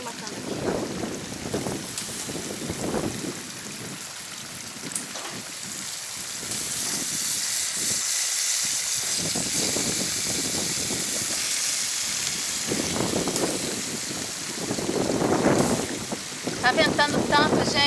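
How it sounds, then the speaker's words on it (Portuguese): Strong wind buffets the microphone outdoors while chicken feet and yam are cooked in a pot, a steady roaring rush that swells louder toward the end, with brief bursts of speech in between. "Tá ventando tanto, gente."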